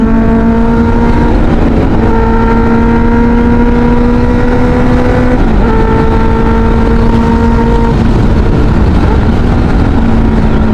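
A QJMotor SRK 600 RC inline-four motorcycle engine revs up smoothly in long rising pulls, loud and close, with a brief dip between throttle sweeps.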